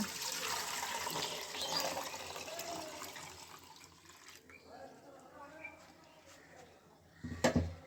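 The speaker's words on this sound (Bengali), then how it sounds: "চুলায় একটি পাতিল বসিয়ে আমি দুধটাকে ঢেলে দেব" Two litres of liquid milk pours into a cooking pot on the stove for a spongy sweet, a steady broadband liquid rush for several seconds that thins out toward the end, ending with a few brief clinks.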